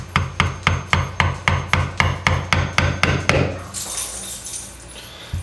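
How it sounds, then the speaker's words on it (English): A thin screwdriver is tapped as a wedge between the engine case halves of a TaoTao 110D quad, giving about fourteen evenly spaced, sharp metallic knocks close by. They stop, and a faint scraping follows. "use a thin screwdriver to wedge the case halves apart"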